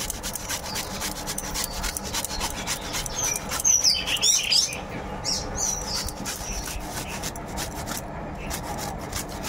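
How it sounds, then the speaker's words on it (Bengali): Peeled taro is rubbed against a hand grater in quick, repeated rasping strokes, a steady scratchy rhythm close by, with faint birdsong in the background and no talking. "একটা ঘষুনি নিয়েছি, এই ঘষুনির সাহায্যে ঘষে নেব।"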